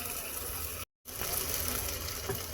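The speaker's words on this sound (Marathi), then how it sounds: "आणि आता वरून गरम पाणी ॲड करायचं आहे" Hot water gushes and splashes steadily into a pot of rice and vegetables, interrupted by a brief cut of silence, then continues pouring.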